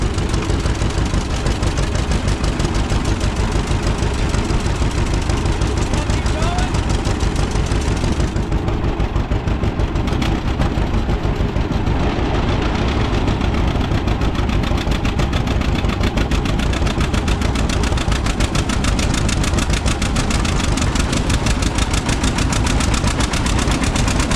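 An old engine at a steam show, loaded on a pony brake for a horsepower test, runs loud and close with a continuous rapid chugging, popping exhaust for the whole stretch and no talking.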